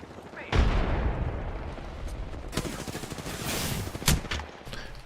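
In a video game, a frag grenade goes off with a sharp, loud blast, followed by bursts of rapid gunfire and another heavy crack near the end.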